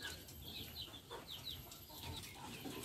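Free-range village chickens in a coop, several birds clucking and chattering close by in a steady, busy chorus with no one talking.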